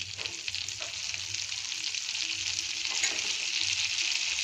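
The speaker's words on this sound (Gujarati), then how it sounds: "બટર આપણું ઓગળી ગયું છે અને મસાલા સાથે હવે આપણે આને ફ્રાય કરી લઈશું." Turmeric, red chili powder and garam masala fry in melted butter for a paneer masala, giving a steady close crackling sizzle with faint stirring, no voices.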